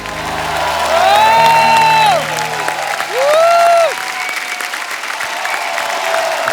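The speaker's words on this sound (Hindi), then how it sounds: "जोरदार तालियां हो जाए।" On a comedy show stage, an audience claps and cheers as a guest is introduced, with whoops and lively applause running throughout while two loud sung or shouted vocal swells ride on top.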